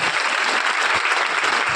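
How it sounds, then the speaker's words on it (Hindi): Applause from an indoor audience welcoming a first-time guest, dense and even, continuous clapping for a couple of seconds with no talk over it. "सर प्लीज आइए यहाँ पे, प्लीज एक ताली हो जाए शानदार।"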